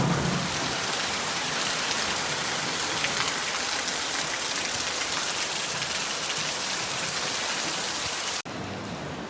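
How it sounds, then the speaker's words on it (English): Heavy tropical rain pours down in Seychelles, a loud, unbroken roaring hiss of dense downpour that holds steady for nearly the whole stretch before dropping slightly at the end. "When it rains here, it rains pretty good."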